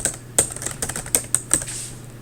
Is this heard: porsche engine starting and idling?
no